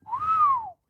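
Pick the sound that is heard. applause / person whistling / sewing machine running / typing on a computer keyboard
person whistling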